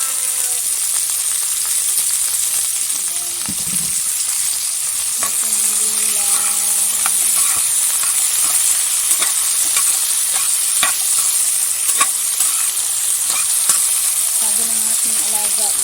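Vegetables for pakbet stir-fry in a pan with a steady, loud sizzle, punctuated by scraping and clinking stirring strokes, close up with no voices.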